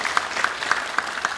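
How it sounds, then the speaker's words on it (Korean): A church congregation claps together in thanks during a Sunday sermon, the claps landing in a steady unified rhythm at a brisk pace. The hall keeps a soft wash of scattered clapping between the louder synchronized beats. "우리 하나님께 감사의 박수를 드리겠습니다"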